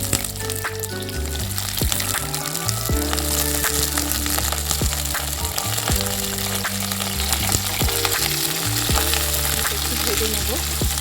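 Potato, papaya, carrot and cauliflower pieces fry in hot oil for sabudana khichdi, a steady loud sizzle running throughout with scattered crackles and occasional stirring clinks, with no talking.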